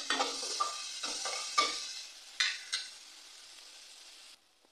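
Spices and green peas sizzle in a pan while a spoon stirs them in repeated scraping strokes, a moderate frying hiss that drops away abruptly near the end.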